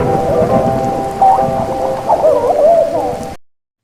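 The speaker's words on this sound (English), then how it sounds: "Raining." A rain sound effect: a steady wash of rain-like hiss with low thunder-like rumble underneath, overlaid by wavering tonal hoots and whistles, loud and close, cutting off abruptly near the end.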